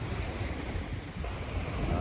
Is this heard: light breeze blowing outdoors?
yes